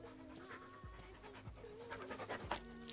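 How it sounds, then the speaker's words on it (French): An old female dog pants steadily and close, rhythmic breaths repeating throughout with a low background hum and no talking. "C'est une vieille chienne."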